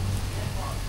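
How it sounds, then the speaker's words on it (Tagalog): Heavy rain pours outdoors in a dense, constant hiss with low rumbling, steady and loud for about a second. "Lakas ang ulan."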